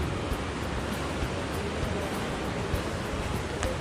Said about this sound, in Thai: ตอนนี้ฝนตกปอแปะปอแปะ